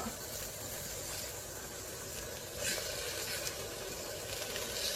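Chicken pieces browned at 110 degrees in an i-Cook'in cooker for Thai chicken crackle and sizzle as a steady, close hiss with no talk.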